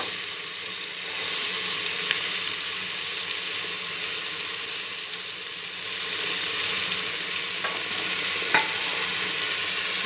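Bottle gourd pieces stirred into tomatoes cooked down in oil give a steady, loud, close sizzle with a faint hiss running throughout and a couple of light clinks from the spoon.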